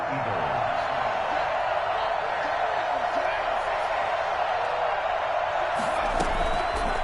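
Stadium crowd in a Madden football video game on PS4 roars after a big play, a dense, steady wall of cheering that holds without letup throughout.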